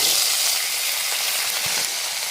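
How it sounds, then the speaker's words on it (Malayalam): Mustard seeds and kozhukatta dumplings, kneaded with ghee, fry in hot coconut oil, giving a steady, dense sizzle with faint crackles and an occasional stir, no voices. "പക്ഷേ ഞാൻ നെയ്യ് ഇതിനകത്ത് ഒഴിച്ച് കുഴച്ചത് കൊണ്ട് ഞാൻ വെളിച്ചെണ്ണയിലാണ് വറുക്കുന്നത്"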